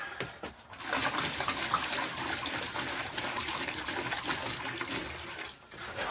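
Water gushes steadily into a bucket to mix Ultracal plaster for mold making, a loud, continuous splashing pour lasting several seconds that tapers off briefly near the end, with no talking.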